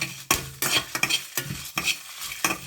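Chilies frying in a hot pan for South Indian boti curry, bursts of sizzle and crackle broken by repeated scraping stirs of a utensil against the pan, close and moderately loud.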